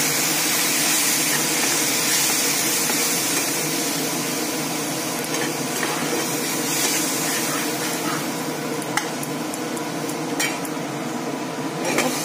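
Water splashes into a hot pan of spice paste frying with chili powder, raising a steady, loud sizzle and hiss with occasional clinks of a utensil against the pan, no talking.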